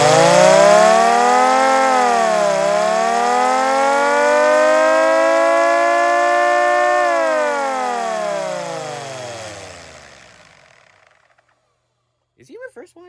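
A battery-powered siren winds up loudly with a rising, falling and then rising wail, holds steady, and slowly winds down to silence. A brief voice follows at the end.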